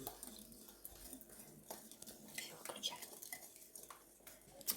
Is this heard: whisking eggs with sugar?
yes